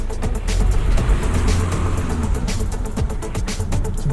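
A Land Rover Discovery Sport pulls away on snow in sand mode, its engine droning and rising loudly up close alongside crunching, rumbling tyre noise.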